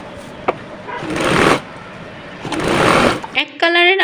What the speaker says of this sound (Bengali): এখন আমি একটু চাপ সেলাই দিয়ে নেব।